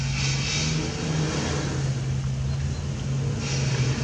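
Porsche 930 race car, a 3.3-litre 911 Turbo, running at a hillclimb event, its engine holding a steady droning note throughout, fairly loud and continuous with no voices.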